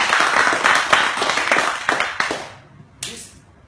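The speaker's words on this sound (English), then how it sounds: "let's give him a round of applause" Audience applause for a man named Steve at a retreat day in Bali, a dense burst of clapping that thins out and stops, then one brief final clap.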